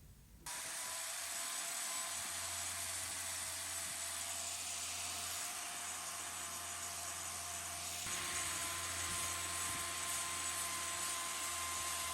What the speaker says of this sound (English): we're going to get the grinder out and take that down so we can trim that out more effectively